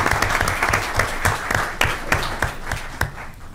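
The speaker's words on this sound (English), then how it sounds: "Can we give them another round of applause?" Audience applause at a school board meeting, close, dense clapping with sharp individual claps standing out over a few seconds.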